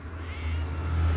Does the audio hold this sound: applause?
no